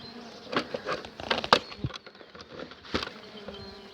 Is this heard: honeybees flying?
yes